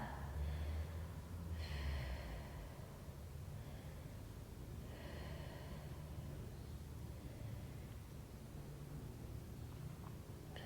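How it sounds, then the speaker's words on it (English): Deep breathing during a Pilates hamstring stretch, with several slow, audible inhales and exhales through the nose spaced a few seconds apart, close but faint over a soft hiss. "take a few breaths there"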